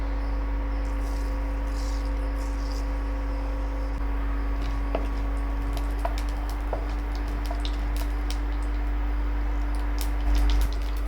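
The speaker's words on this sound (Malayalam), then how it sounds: "എണ്ണ ചൂടായതും നമുക്ക് കടുക് ഇട്ട് കൊടുക്കാം" Mustard seeds splutter in hot coconut oil, scattered sharp pops and crackles rising over a constant low electrical hum.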